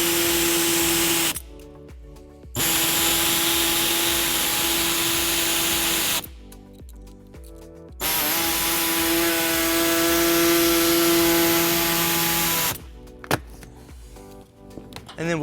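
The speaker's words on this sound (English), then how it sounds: "we'll be using an air saw to cut that out" Air saw cutting the plastic bottom edge of a 2012 Fiat 500 bumper fascia, a loud steady pneumatic buzz running in three long passes separated by short pauses, close up with no talk.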